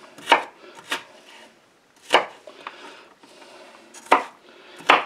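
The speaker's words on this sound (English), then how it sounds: "Chop that little bit of core off of that one" A knife chops onion for guacamole on a board in six sharp, separate strokes at an irregular pace, close and crisp, with no talk.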